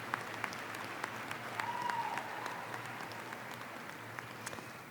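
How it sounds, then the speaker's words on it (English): A commencement audience applauds international graduates at a university winter ceremony, a steady, even wash of clapping that holds at a moderate, somewhat distant level throughout. "Join me in giving a big round of applause to our graduates from other countries."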